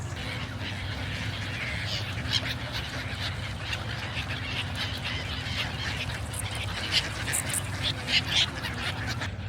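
Ducks gather on a mostly frozen pond where little open water is left, heard as scattered quacks and honks over a steady outdoor wash, with some talk mixed in.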